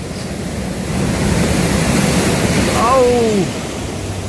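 Large ocean waves crash in a steady, loud surf roar that swells near the end, with a brief exclamation and a short rising-falling voice over the water.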